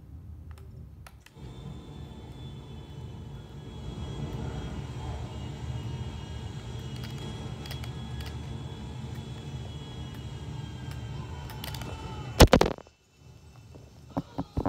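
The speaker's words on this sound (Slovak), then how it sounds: "tu štartuje lietadlo." An airplane takes off, heard as a faint, distant low rumble that swells and holds for about ten seconds, then a sharp loud clatter close by and quieter handling noises.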